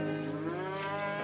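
A cow gives one sustained, nearby moo on a ranch before a cattle drive, steady and tonal from start to finish with no talking.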